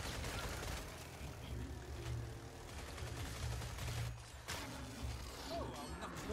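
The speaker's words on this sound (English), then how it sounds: "Turret in the game, mate." Rapid turret gunfire rattles in a video game, dense and continuous bursts with blasts, while players talk over it throughout.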